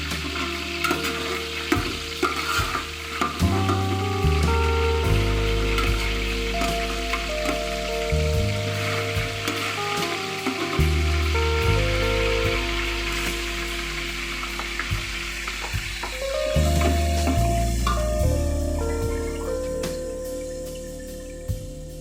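Ginger-garlic and cumin-coriander paste frying in a pan for tehari, a loud, continuous sizzle with constant stirring and a low background hum throughout.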